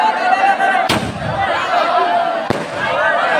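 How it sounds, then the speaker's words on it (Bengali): Fireworks at a football event burst with two sharp, loud bangs about a second and a half apart, standing out over a steady background of amplified crowd and announcer sound. "আমরা দেখতে পাচ্ছি খুব সুন্দরভাবে আতশবাজি অনুষ্ঠিত হচ্ছে।"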